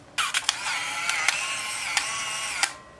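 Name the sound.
Nikon L35AD film camera shutter being pressed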